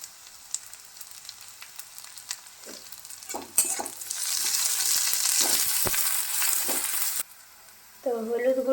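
Onion, ginger paste and chopped green chili fry in a pan, quiet scraping giving way to a loud, steady sizzle that cuts off abruptly, followed by a brief bird-like call.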